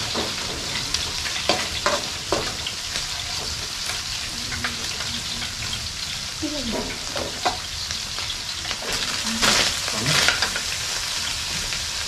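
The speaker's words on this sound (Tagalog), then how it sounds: "luto na po yung ating piniritong isda" Fish sizzles and crackles steadily in a hot frying pan, a dense continuous spatter with occasional louder pops and clinks of stirring, close and without talk.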